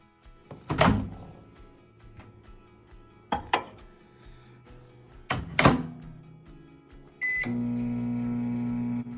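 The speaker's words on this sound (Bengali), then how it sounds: "আমি আবারও এক মিনিট গরম করে নেব মাইক্রো ওভেনে" A microwave oven is used to heat oil with black cumin and dried chillies: a few loud thunks from the door and buttons, a beep, then the steady hum of the oven starting.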